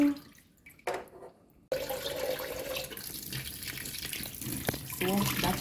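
A kitchen tap runs with a steady rush of water into a sink, heard close up after a few quiet clinks and a short gap.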